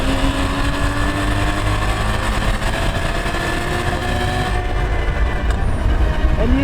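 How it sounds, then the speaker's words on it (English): Porsche Boxster 981 exhaust and intake roar under hard acceleration through the gears, a loud, dense, continuous engine drone with rising tones heard close up and alone. "the exhaust wails and the intake growls as you click with a thunderclap into the next gear"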